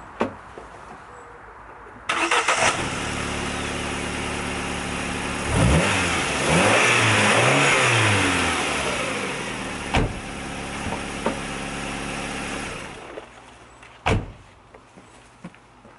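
A Ford Ka engine cranks and catches after a click, then revs up, settles into a steady running idle and cuts off near the end, with a couple of sharp knocks along the way.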